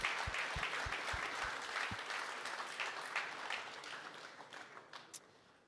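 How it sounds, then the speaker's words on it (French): Audience applause at a Founders Night gathering, a full crowd clapping steadily, with a few sharp close claps near the microphone early on, gradually thinning and tapering off toward the end. "J'aimerais que vous applaudissiez tous"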